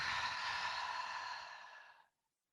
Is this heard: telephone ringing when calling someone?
no